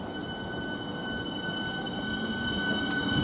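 A Southeastern train departs London Victoria bound for Orpington, its steady rumble and electric hum running continuously at close range with a faint rise toward the end, no talking.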